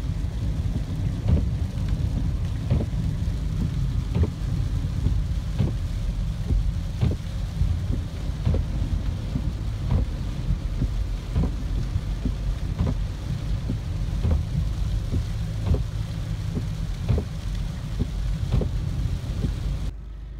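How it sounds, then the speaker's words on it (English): Steady heavy rain hisses throughout, with repeated low rumbles and soft thumps that suggest thunder in a bad-weather storm, holding an even loudness over the whole stretch with no voices. "the way the rain's going now, it's gonna have to clear up quite a bit"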